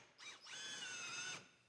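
An impact wrench backs out a control arm bolt on a GMC Terrain: a brief high whine, a short pause, then a steady, faint, whirring run of about a second that cuts off abruptly.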